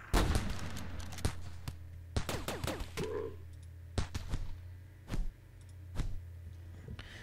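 Gunfire during a siege in Rimworld, scattered sharp shots and thuds spaced irregularly across the stretch, some near and loud, others softer, over a low steady hum.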